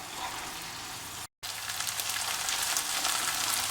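Mutton keema and liver fry hard in a pan over a high gas flame, a dense, steady sizzle like rain on a surface, close and continuous with one brief dropout.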